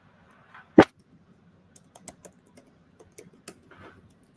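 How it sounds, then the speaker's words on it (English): Keys tapped on a computer keyboard while a system password is entered, starting with one loud sharp keystroke and followed by a scattered run of soft, quiet clicks in a silent room. "Just type your system password."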